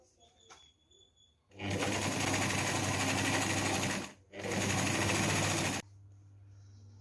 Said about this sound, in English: So now I'm doing the stitch across to hold the flap in place.